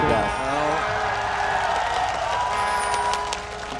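Arena crowd cheering and roaring at a League of Legends world championship match, a sustained loud wash of voices with a horn-like drone, while a commentator talks over it.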